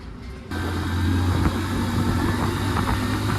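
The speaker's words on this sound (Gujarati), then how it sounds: "અને અહીંયા છે આપણું બાઇક" A motorbike engine idles close by with a steady, even rumble that starts abruptly after a brief quieter moment and holds at a constant level.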